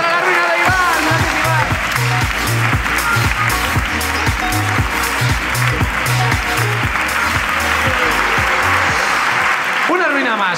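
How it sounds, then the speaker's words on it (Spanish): A podcast comedy audience bursts into loud applause and cheering, dense clapping throughout, with a rhythmic thumping beat and voices mixed in before it cuts off near the end. "¡Aplausos para la ruina de Iván!"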